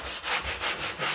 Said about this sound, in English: So we'll take this guy, do a light sand.